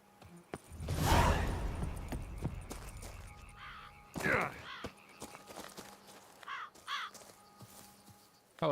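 Crows caw in a video game scene from The Witcher 3, several short harsh calls scattered after a whooshing movement, with footsteps and a voice in the background.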